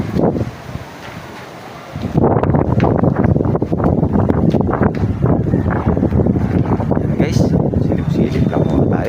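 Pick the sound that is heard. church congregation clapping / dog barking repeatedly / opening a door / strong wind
strong wind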